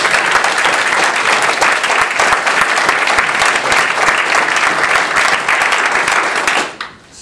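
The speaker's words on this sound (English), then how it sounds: "So I'd really like to give them a round of applause for all they did." A large audience at a national parks summit applauds loudly and steadily, dense clapping filling the room for several seconds before quickly dying away.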